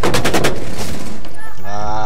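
Rapid bursts of loud gunfire in the video game Rainbow Six Siege crack in quick succession, then fade into a ringing electronic tone.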